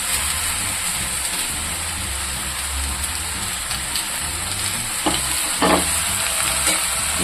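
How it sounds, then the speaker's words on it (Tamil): Cabbage, about a quarter kilo of it cut and washed, is tipped into a hot pan and stir-fried for a Tamil cabbage poriyal. A steady loud sizzle runs throughout, with a few sharper scrapes and clatters near the end and no talking. "1/4 கிலோ இலைக்கோசு போட்டுக்கலாம்."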